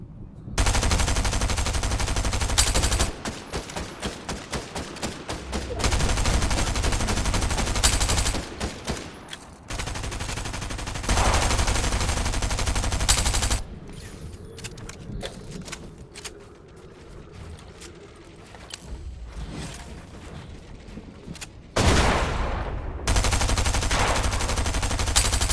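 Rapid automatic gunfire from Fortnite weapons in a duos match, loud bursts of sustained fire broken by short pauses and quieter stretches of scattered shots and clatter.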